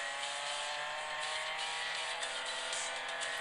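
A BMW race car in the Real Racing 3 mobile game accelerates hard, its engine note whining steadily and loudly throughout, with no voices heard.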